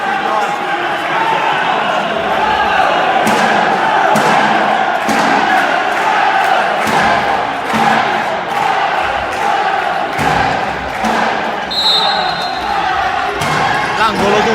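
Crowd at a live futsal play-off match in Sicily, a constant roar of spectators with ball thumps and shoe squeaks on the court, under steady commentary.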